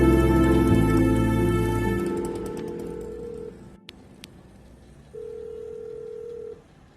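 A steady telephone dial tone hums, fades out, then a couple of short clicks and a brief single tone follow in near silence.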